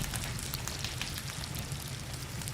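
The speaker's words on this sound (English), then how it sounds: "you can really hear the bacon sizzling in the background here now." Dense, steady sizzling fills the clip, a loud continuous crackle and hiss like bacon frying close by, with no voices.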